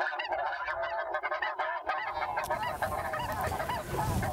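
A large flock of snow geese honks continuously, a dense overlapping chorus of calls that sounds close and loud, with wingbeats and field noise filling the background throughout.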